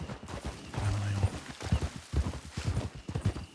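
Rapid hoofbeats of a horse galloping in a Western video game, a steady near, loud clip-clop rhythm that runs throughout with faint speech mixed in.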